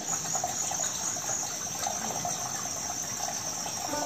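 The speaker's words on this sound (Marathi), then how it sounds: "तर मित्रांनो हा जो आवाज आहे तो पाण्याचा आवाज आहे." Water trickles steadily from a cave spring into a pool at Amboli Ghat by the Hiranyakeshi river, a continuous close wash of running water with an insect-like high hiss and no talking.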